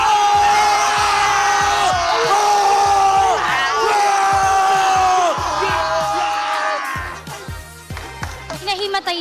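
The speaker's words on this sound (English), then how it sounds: "Isang cheer naman para sa Barangay Smart Omega!" A large arena crowd at a Mobile Legends pro league esports match cheers and yells loudly for a team, with a caster's voice over the sustained roar before it thins out.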